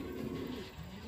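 Fancy pigeons in a breeding setup, including English powder and black Mukhi birds, coo in a low, steady, throaty murmur that carries on without pause, close by and with no talk.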